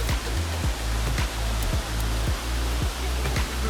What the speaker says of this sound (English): We just got to the waterfall, guys.